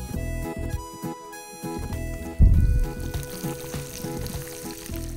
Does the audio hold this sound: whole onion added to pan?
yes